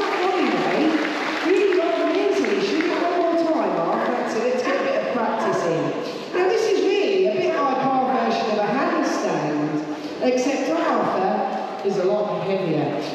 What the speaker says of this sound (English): give him a large hand of applause